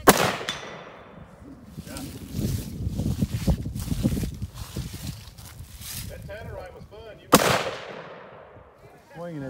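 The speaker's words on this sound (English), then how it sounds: "Grayson, you gonna shoot it?" Gunshots fired at a target outdoors: a sharp crack opens the clip and another comes near the end, loud and close, with rustling, movement and handling noise between them.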